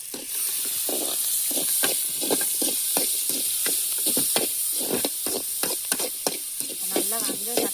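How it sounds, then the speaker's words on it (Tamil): Onions sauté in a large pan for a communal tamarind rice meal, with a steady frying hiss and repeated scraping stirs of a ladle against the metal. Faint voices can be heard in the background. "ஓகே நிஷா, வெங்காயம் வதக்கிக்கிட்டு இருக்கட்டும்."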